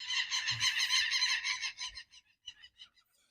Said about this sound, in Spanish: No sé qué clase de pájaros son esos